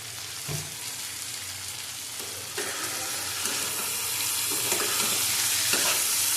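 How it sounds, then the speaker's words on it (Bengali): Papaya pieces lightly frying in a pan, a continuous oily sizzle with occasional stirring knocks and scrapes, swelling slightly louder toward the end, no one talking. "এটা বেশি ভাজবো না, হালকা ভেজে জল দিয়ে দেবো।"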